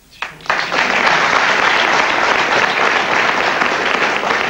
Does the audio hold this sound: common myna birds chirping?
no